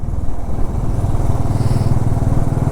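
A motorcycle climbs a mountain road near Shimla at moderate speed in second or third gear, its engine a loud, steady, close-up drone with a rough pulsing rumble throughout.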